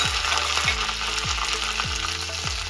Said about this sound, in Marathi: पॅन गरम झालेला आहे, तेल गरम झालंय। आपण याच्यात 1 चमचा मोहरी टाकले, कढीपत्ता,